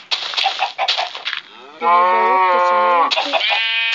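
Cattle mooing in the Minecraft video game: a few short bursts at first, then a long, loud, sustained moo that holds for over a second before fading into another, close and clear with no talk.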